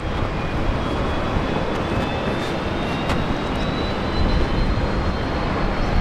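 Airliner taking off from runway 19 left at Brisbane Airport, a steady broad engine roar holding at constant loudness throughout, with a faint high whine running across it.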